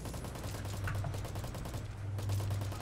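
Gunfire in the online shooter game Metal Gear Online: a dense, continuous rattle of rapid shots under steady game noise, fairly quiet, with no talk over it.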